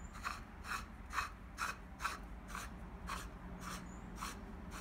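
A metal file turns the end cap on a Cub Cadet 680 tractor steering column, giving a steady series of faint rhythmic scraping clicks against a low background hum.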